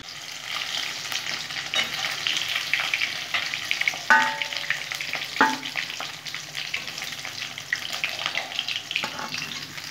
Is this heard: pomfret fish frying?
yes